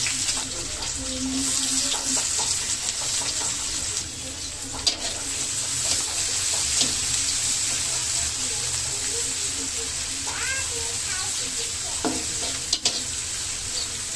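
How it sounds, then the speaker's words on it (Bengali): Chopped onions fry in hot oil for crispy fried onion, a steady loud sizzle throughout with occasional stirring scrapes and clinks, close up, with no talking. "তেলটা যখন গরম হয়ে এসেছে তখন আমি পেঁয়াজ কুচিগুলো দিয়ে দিচ্ছি"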